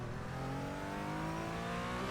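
Porsche Cayman GT4 engine at Brands Hatch track, a steady loud drone of engine harmonics that slowly climb in pitch with a slight dip, continuous and close with no talk.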